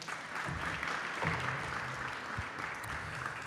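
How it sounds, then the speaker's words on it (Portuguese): Audience applause at a conference on the judiciary and regulatory agencies, steady dense clapping from a large crowd that holds at an even level throughout. "uma salva de palmas."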